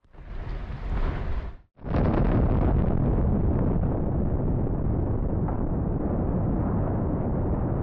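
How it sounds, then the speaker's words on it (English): A coal power plant in Germany is brought down by controlled explosion, toppling a 328-foot boiler and 410-foot cooling tower: an initial blast rumble, a brief gap, then a sustained heavy roaring collapse rumble that persists to the end. "Coal power plant in Germany destroyed in a controlled explosion, removing a 328-foot boiler and a 410-foot cooling tower."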